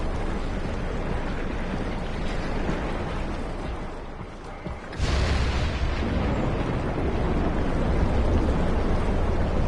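A deep, rumbling undersea storm in SOMA, a continuous loud low roar that dips briefly and then swells back with a sudden surge, with no voices.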